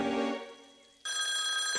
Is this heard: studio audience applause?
no